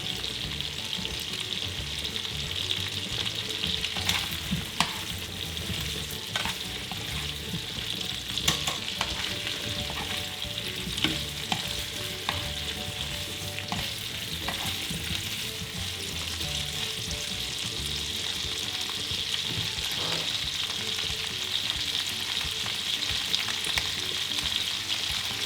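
A steady hiss of stir-frying in a hot pan runs throughout, with frequent scrapes and clicks of a utensil stirring the contents, close and continuous, no voices.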